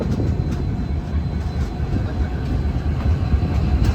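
A Humsafar special train arrives at Ratnagiri station, giving a steady, loud rumble of rolling carriages with faint rhythmic clicks throughout and no voices.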